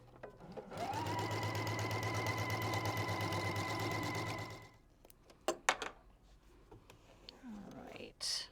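A sewing machine stitches quilt fabric in one continuous run of rapid mechanical whirring lasting several seconds, close up, followed by quiet handling noises and soft voice sounds.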